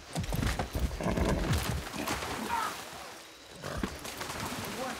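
Horse galloping in the Far Cry 6 video game, rapid clip-clop hoofbeats with a brief whinny, mixed with wind rush and faint distant gunfire-like pops, moderately loud and close.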